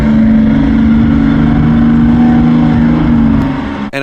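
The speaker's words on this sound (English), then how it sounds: "that's what the Viper sounds like when it has the pipes on the sides" A 1997 Dodge Viper GTS with side-exit exhaust pipes idles loud and close, a deep, steady, truck-like drone with a coarse low rumble that holds unchanged, ending in a brief dip and click.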